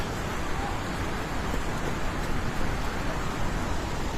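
A constant, loud roar of a flooded river in Nepal rushing past nearby, dense and unbroken with no voices.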